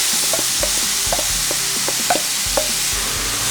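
Vegetables stir-frying in olive oil in a heated frying pan, with a steady sizzle under repeated scraping and tapping strokes of a utensil against the pan, close and clear.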